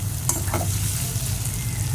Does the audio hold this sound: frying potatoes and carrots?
yes